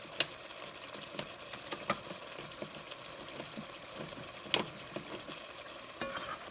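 Chili of beans and tomatoes stirred in a pot, with soft sizzling and scattered sharp scrapes and clicks of a utensil against the pot, faint and close, with no talking.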